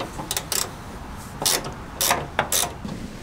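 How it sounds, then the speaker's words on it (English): A spanner turns a body mount nut on a 60 Series, giving short bursts of ratcheting clicks with pauses between them, fairly close and quiet. "Once you crack it, you can obviously move to your spanner."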